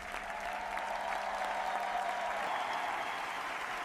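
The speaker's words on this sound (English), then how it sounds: "The whole cast takes one last bow together as the audience continues cheering." An audience applauds and cheers after a children's school play, a dense steady wash of clapping that holds at an even level throughout, with no talk.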